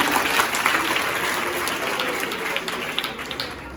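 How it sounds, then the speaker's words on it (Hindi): An audience applauds loudly at an informational session on police and defence careers, a dense, sustained burst of many hands clapping that fills the space evenly and fades slightly toward the end. "जोरदार ताली"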